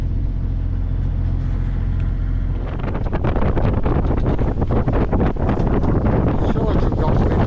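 Strong wind buffets the microphone aboard a sailing boat at sea in wind-against-tide conditions, a loud continuous rumble with gusty roaring and spray-like hiss.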